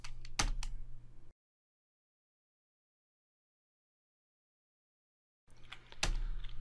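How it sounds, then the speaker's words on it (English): Short bursts of clicky keystrokes on a computer keyboard entering a Linux command, close and quiet, split by a long stretch of silence before a second flurry of taps. "I'll type sudo apt-get install"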